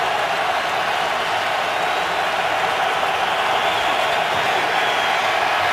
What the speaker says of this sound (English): Crowd gets on its feet on 3rd and 6